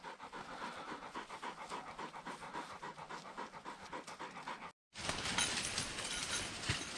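A hunting retriever pants hard and close after fetching birds, quick rhythmic breaths repeating steadily before a brief cut, after which a louder, rougher burst of noise follows.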